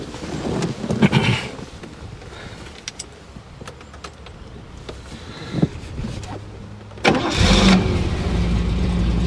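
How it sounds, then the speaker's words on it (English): An inline straight six-cylinder engine cranks and catches in short bursts, then fires up with a sudden loud start and settles into a smooth, close idle. "A straight 6, an inline straight 6 is a lovely engine, isn't it?"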